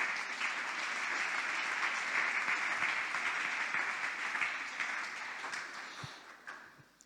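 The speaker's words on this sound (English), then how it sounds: "Let's clap hands for Glorify Jesus." A church congregation claps hands in praise, a dense, steady wash of applause that holds for several seconds before gradually thinning and fading out.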